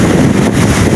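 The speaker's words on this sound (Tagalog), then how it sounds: "alon at saka hangin." Wind and waves at sea during a typhoon make a loud, dense, continuous roar of wind buffeting and churning water, filling one brief moment.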